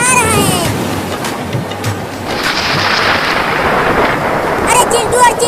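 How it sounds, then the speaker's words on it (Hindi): Rumbling thunder and heavy rain pouring continuously, loud and close, with a broad roaring wash, while voices talk over it. "देखो कितना बादल गरज रहा है।"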